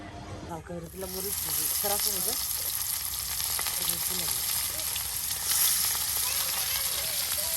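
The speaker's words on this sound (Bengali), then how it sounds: "এই দেখুন আপনার এখন মাছ ভাজি করা হচ্ছে।" Tilapia fish frying in hot oil gives a constant, close sizzle and crackle, with a voice talking over it at the start.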